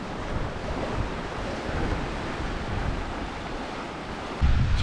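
Waves wash steadily around a sailing boat at sea off Terre-de-Haut while strong wind rushes past. Loud, constant surf and wind noise carries on without a break.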